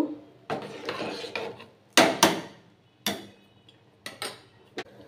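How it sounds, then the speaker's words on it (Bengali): Gobindobhog rice stirred into boiled lentils in a cooking pot for khichuri: a spoon scrapes and rasps against the pot in several short, close bursts, with brief pauses between strokes and no voices. "চালটা দিয়ে একটু নেড়ে চেড়ে মিশিয়ে দেব।"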